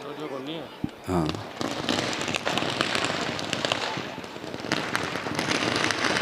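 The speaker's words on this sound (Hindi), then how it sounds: "आतिशबाजी के बीच" Fireworks burst at the Ravan Dahan Dussehra fair at the Ratangarh railway Ramlila ground, a dense, continuous roar of crackling and popping explosions that holds steady and loud throughout.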